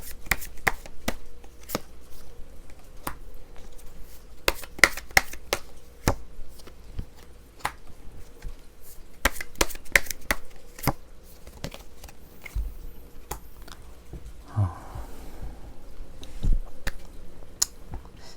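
Tarot cards are shuffled and drawn by hand: a string of quiet, crisp card flicks and soft slaps at an irregular pace over a faint steady hum, with no talking.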